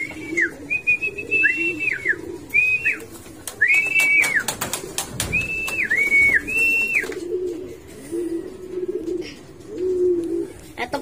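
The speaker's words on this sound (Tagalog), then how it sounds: "Sumabay dun sa maraming ibon si Gandang Ari." Repeated rising-and-falling whistled calls sound over a steady low murmur of cooing, a busy flock of racing pigeons arriving outdoors at a pigeon race, with occasional clatter.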